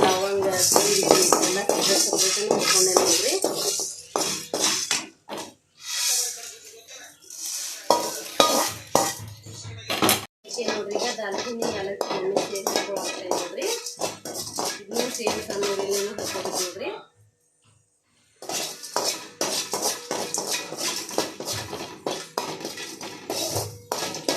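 Whole spices such as peppercorns rattle and scrape as they are stirred in a pan over a low flame, a continuous close metallic scraping and clinking with a short pause, and a voice talking faintly underneath.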